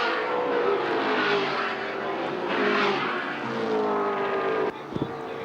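Racing cars at Amaroo Park during a 1979 AMSCAR Series round roar past with rising and falling engine notes, loud and close, ending in a sharp gear-change blip.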